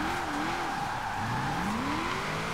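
A car drifts through a roundabout on a rain-soaked road in the racing game Forza Horizon 4, its tires squealing in long, rising and falling whines over a steady engine drone, continuous and close.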